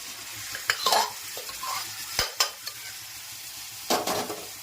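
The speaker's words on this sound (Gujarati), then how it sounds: "સરસ મજાનું મેથીનું શાક બની રહ્યું છે મસ્ત મજાનો વઘાર થઈ ગયો છે" Close sizzling of a fenugreek leaf curry tempering in a hot pan, broken by several sharp scrapes and clanks of a spoon stirring against metal.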